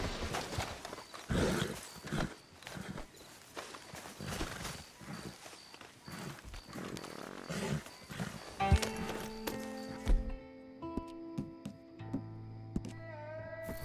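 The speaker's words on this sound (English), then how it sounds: "You need to get that horse under control." Hooves clip-clop steadily while a horse whinnies nearby in Red Dead Redemption 2; faint voices and music join toward the end.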